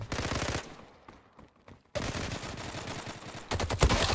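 Pistol gunfire in the online shooter Zula on a disco map, loud rapid shots in bursts at the start, a pause with a few scattered faint cracks, then dense heavy firing resuming and peaking at the end.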